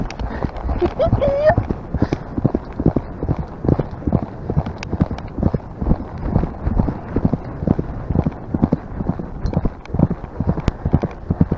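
Steady clip-clop of horse hooves on a hard surface, a regular rhythmic walking pace throughout, close by with faint voices in the background.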